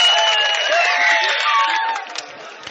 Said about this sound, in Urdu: ایک مرتبہ حاجی صاحب کے لیے تالیاں بجا دیجیے زوردار